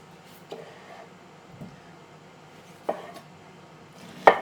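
Onions being chopped by hand on a cutting board, a few sparse knife thuds at irregular intervals over a quiet kitchen background, the last one sharper and louder.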